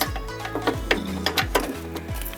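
A power tool whirs in short rhythmic pulses while loosening a bolt on a minitruck, a repeating mechanical motor sound close by with no talking.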